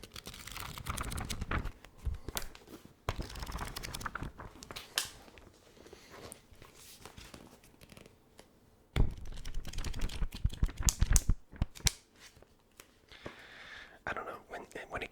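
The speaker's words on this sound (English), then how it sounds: "Do you like page turning sounds?" Pages of a paper book turned and handled up close, a series of soft crisp rustles and flicks with quiet gaps, accompanied by whispering.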